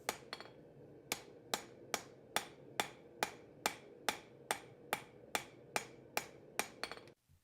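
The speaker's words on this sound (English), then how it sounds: "when I'm forging my bevels, I like to just take the blade one section at a time" A hammer strikes a forge-hot wrought iron and W2 steel knife blade while shaping its bevels, about fifteen sharp, ringing metallic blows in a steady, even rhythm, close and loud, with no talk.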